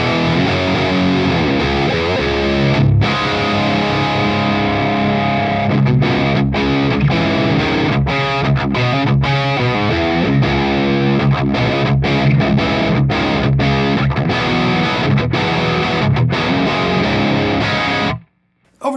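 Electric guitar played through a Mesa Dual Rectifier amp with gain set high, producing a loud, saturated distorted riff with steady chugging and brief choppy stops, alone and continuous until a sudden cut near the end.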